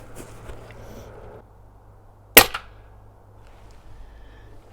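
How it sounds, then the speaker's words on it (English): A single sharp rifle shot fired from a rifle fitted with a DNT Zulus v2 scope, loud and close, standing alone against quiet background hiss. "Take my third shot."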